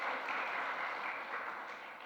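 A church congregation applauds during an Easter Sunday service, a steady, fairly soft wash of many hands clapping that thins slightly toward the end.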